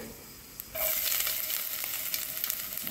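Fennel, cumin and fenugreek seeds with chopped ginger drop into hot oil, setting off a sudden bright sizzle after a quiet start that stays steady and close, with light crackling.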